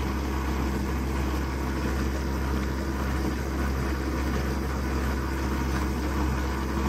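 A generator running at 91 RPM gives a steady, low, even drone with no change in pitch or level, heard alone at moderate loudness.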